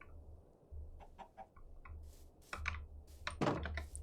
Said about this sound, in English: Got my first 2 chickens